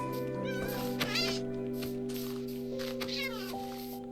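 A cat in the game My Forever World meows twice in drawn-out calls over sustained background music, fairly close and clear.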